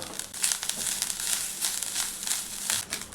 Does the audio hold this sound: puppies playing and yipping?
no